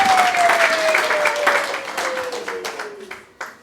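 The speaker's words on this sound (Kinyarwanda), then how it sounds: "clap for the Lord" A church congregation claps, the applause fairly loud and dense before thinning out toward the end, with a sustained tone from music or a voice sliding under it and a few scattered last claps.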